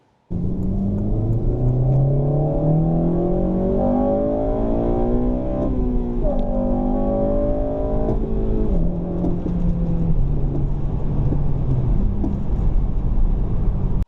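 An 8th-generation Honda Civic Si engine revs up through the gears from inside the car, each climb in pitch followed by a brief hang of held revs at every shift, loud and continuous with no talking.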